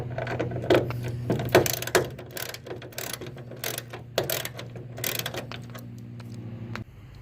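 A hand ratchet clicks rapidly in bursts, loosening a bolt on a carbon fiber heat extractor hood of a Mustang GT500, close and clear over a low steady hum, then stops.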